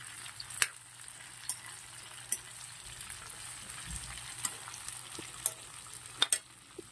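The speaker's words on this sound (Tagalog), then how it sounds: "Tapos, haluin natin." Food frying in a pan on the stove, a steady sizzle with a spoon or spatula scraping and tapping the pan at regular intervals, close and alone without talk.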